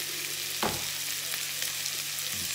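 Two onions for a two-person Spanish tortilla fry over fairly high heat in a pan, giving a soft, steady sizzle with a brief stir or pop partway through.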